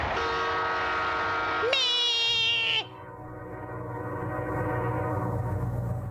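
A loud diesel locomotive air horn sounds a rich multi-note chord, jumps briefly to a brighter, higher chord, then settles into a lower, steady blast.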